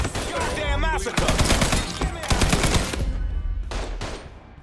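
Heavy gunfire in the Mafia 3 video game, loud rapid bursts of automatic fire crackling almost continuously, close and dense, with shouting voices mixed into the fray.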